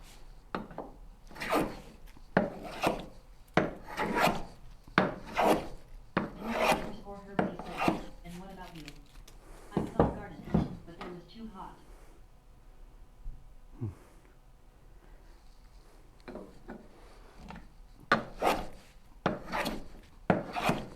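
A rasp works on wood while a turning bow saw is being made, giving irregular bursts of gritty scraping strokes in runs, close and moderately loud, with quieter pauses and brief handling noise between runs.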